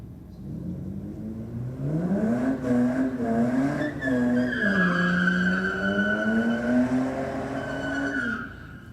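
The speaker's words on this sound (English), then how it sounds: "Front wheel drive burnout for the Volkswagen." A front-wheel-drive Volkswagen Golf performs a burnout, with a sustained loud tire squeal over a revving engine whose pitch climbs and wavers for about nine seconds, close by and continuous.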